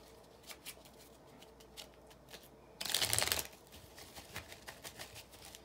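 A deck of tarot cards is shuffled close up: soft riffling and scattered card taps, then a dense, loud burst of fluttering cards near the middle, followed by lighter handling sounds, no talking.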